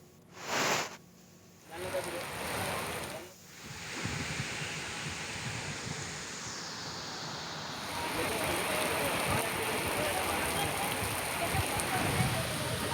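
Heavy rain driven by strong gusty wind over Jalna, a steady broadband downpour roar that swells louder in the second half, with a few brief bursts early on and no voices.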